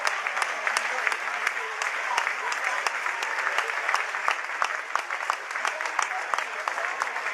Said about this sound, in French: Ça s'applaudit pour Julien Roberts